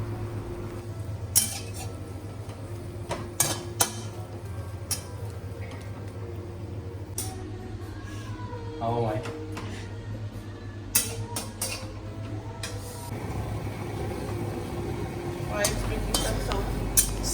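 Vegetables are stirred in a pot for Korean seafood noodles, with intermittent metal utensil scrapes and clinks against the pot over a low steady hum and faint sizzle, spaced irregularly across the stretch.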